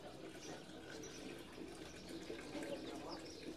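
Water runs steadily into a jug at a thermal spring fountain at a spa in Termas de Ibirá, making a continuous close splashing hiss with no talk.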